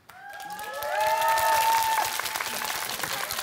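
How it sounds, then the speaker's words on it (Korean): Audience applause at a televised public comedy show in a studio theater, rising quickly to a loud, steady clatter of many hands clapping, with a few whistles or cheers riding over the top. "자, 두 번째 코너 박수 주세요."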